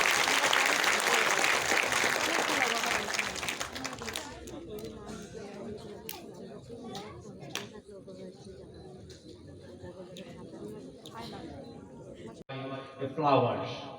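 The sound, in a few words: audience applause at an alumni reception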